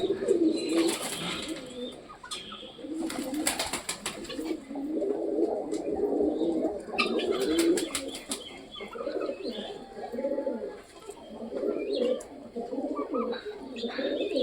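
Close pet pigeons feeding on grit make repeated low, throaty coos in overlapping bursts. Occasional wing flaps and soft pecking sounds come through between the calls.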